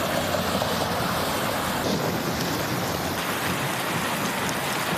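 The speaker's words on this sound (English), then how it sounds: "Heavy rain fell in some spots there where they also had a pop-up thunderstorm in that area." Heavy rain falls in Palmdale during a pop-up thunderstorm, a loud, steady, dense roar of downpour that stays even throughout with no voices.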